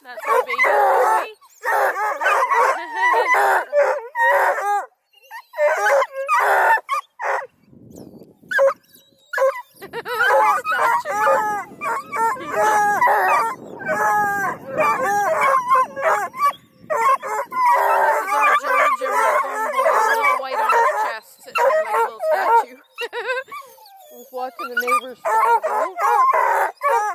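A pack of coonhounds, Blueticks, Redbones and Black and tans, bay and howl together in long, wavering, loud cries that rise and fall nearly without pause, close and overlapping throughout.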